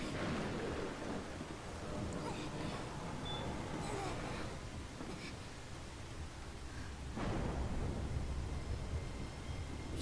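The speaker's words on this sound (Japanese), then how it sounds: "豪雨になりました。" Heavy rain pours steadily through the whole stretch in the horror game Fatal Frame: Maiden of Black Water, with a broad, loud wash of downpour and a low rumble of thunder swelling near the end.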